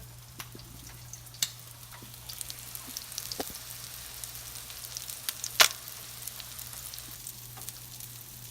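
Canned salmon cakes frying in a pan, a steady soft sizzle close by with scattered crackles and pops and one sharper snap partway through, no voices.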